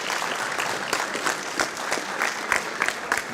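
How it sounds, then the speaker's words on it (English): An audience at a tech forum gives steady, fairly loud applause, a dense patter of many hands with a few sharper claps standing out. It holds without a break for the whole few seconds. "Give a round of applause."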